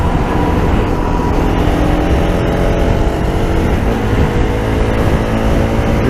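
A Bajaj Pulsar RS200 motorcycle engine drones loud and steady at high revs on a busy road, a dense continuous roar with slight pitch shifts as it holds speed; no voices.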